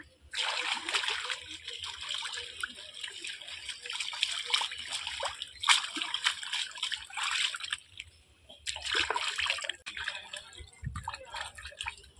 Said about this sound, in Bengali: মাছগুলো কেটে নিয়েছি, এবার ধুয়ে পরিষ্কার করে নিই